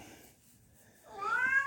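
A pet cat lets out a single short, rising meow close by, after a moment of quiet room tone.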